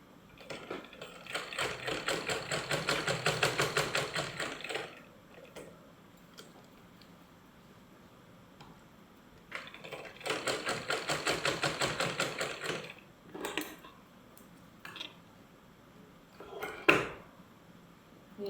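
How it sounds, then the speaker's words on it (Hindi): Domestic sewing machine stitching pajama pants, running in two loud, steady bursts of rapid mechanical clatter with pauses and a few short taps and clicks between them. "अब हम सिलाई शुरू करेंगे।"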